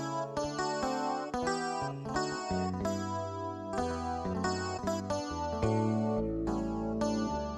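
A clean guitar voice from a Yamaha PSR 900 keyboard plays a rhythmic chordal pattern with bass notes, steady strummed-style hits repeating over several bars, moderately quiet and without talk, for Ghanaian worship song accompaniment.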